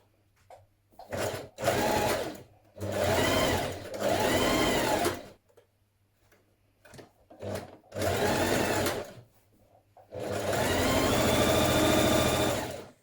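A sewing machine stitches down a dress skirt seam in bursts of whirring, about six runs of varying length separated by pauses, close and clear, the last run the longest.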